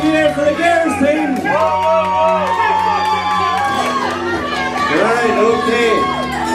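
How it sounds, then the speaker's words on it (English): A wedding crowd in Derry cheers and shouts loudly for the girls' team, a dense, sustained roar of many voices with children's yells and chatter mixed in. "And can we hear a cheer for the girls team?"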